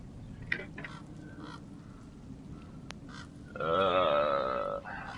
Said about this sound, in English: I hear that bird.